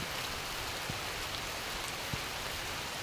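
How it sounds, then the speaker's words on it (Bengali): Heavy rain pours down near a market road, a dense, steady hiss of drops with no break, loud and continuous, with only a couple of faint sharper drips. "তো হঠাৎই আবার অঝরে বৃষ্টি।"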